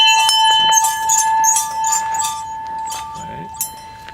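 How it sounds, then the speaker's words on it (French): A bell rung at the gate of a closed-up country property, its steady metallic tone hanging on with a few brighter clinks and clanks over a few seconds, fairly close, with faint voices in the background. "on va sonner à la cloche"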